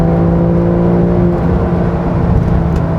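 A rear-engined 2020 Porsche 911 (992) Carrera S drones steadily with a low, harmonic exhaust note, holding a fairly constant loud hum throughout.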